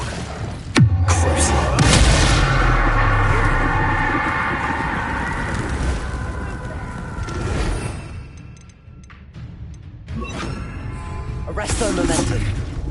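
Fire spells explode in Hogwarts Legacy with a heavy booming blast, a rushing roar and crackling flames across a busy combat scene, with shouted speech over the fight.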